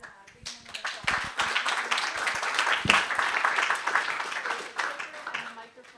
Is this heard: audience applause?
yes